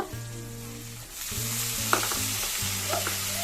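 Onion, garlic, chili and prawn heads frying together in a pan, with a steady broadband sizzle and scraping stir strokes, alongside a low tonal hum, close and fairly loud throughout.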